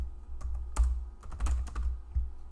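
Steady clicks of a computer keyboard as someone types Python code, quick keystrokes in irregular bursts over a low background hum.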